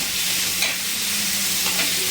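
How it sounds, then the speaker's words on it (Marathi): Chopped onion fries in oil in a pan for a mung bean chutney, a steady hiss of sizzling with a couple of faint stirring scrapes, close and unbroken, no voices. "आता व्यवस्थित छान असा आपल्याला कांदा भाजून घ्यायचा आहे तेलामध्ये"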